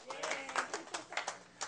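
An audience claps in a loose, scattered burst of hand claps that rise and fall for a moment, fairly close.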